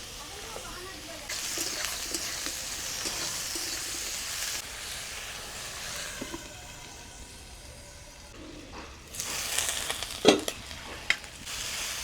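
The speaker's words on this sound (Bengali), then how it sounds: "এবারে কেটে রাখা বেগুনগুলো দিয়ে নেড়ে চেড়ে বেগুনগুলোকে একটু সেদ্ধ করে নেব।" Chopped eggplant and onion stir-fried in fish oil, a steady sizzle with scraping stirs through most of the span and a louder burst near the end; a voice speaks briefly under the cooking.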